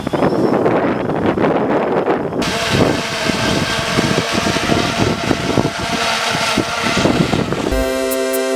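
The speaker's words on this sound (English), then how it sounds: "It's too windy out here." Strong wind from a New York City blizzard buffeting the microphone with a loud, continuous roaring rush that surges and gusts for several seconds, close and unbroken.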